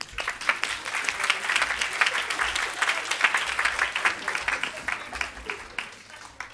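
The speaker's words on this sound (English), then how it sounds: "give yourselves a round of applause" A conference audience at a national SEND and AP standards co-production session applauds steadily, with dense overlapping claps sustained throughout at moderate loudness, no voices standing out.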